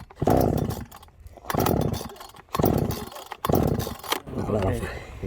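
A flooded Husqvarna chainsaw is cranked by pull cord four times in a rhythmic series, each pull bringing a loud, close, sputtering burst that dies away without the engine catching.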